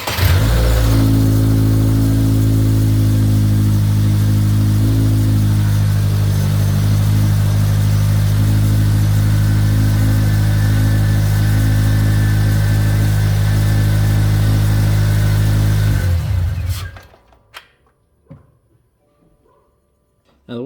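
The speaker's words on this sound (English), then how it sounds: "start the car, let it run for a few minutes, for a few seconds," A Subaru car engine runs at a steady, loud idle with a strong low hum and slight revving, close up, then cuts off near the end, leaving near silence with a few faint clicks.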